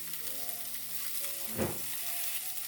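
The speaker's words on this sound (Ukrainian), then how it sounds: "Зараз я обжарю рибку спочатку, а тоді буду робити далі." River fish frying in a pan of oil, a steady close sizzle with a brief louder crackling surge in the middle, alone without talk.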